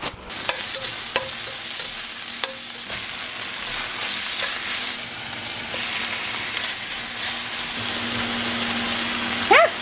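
Bean sprouts stir-frying in a hot pan for a vegan veggie stir fry. A steady, bright sizzle runs throughout, broken by occasional clicks and taps of a utensil against the pan.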